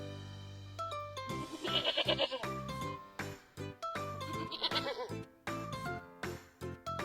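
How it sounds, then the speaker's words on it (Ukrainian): A goat bleats in short, quavering cries, a couple of calls a few seconds apart among other farm noises. "Коза."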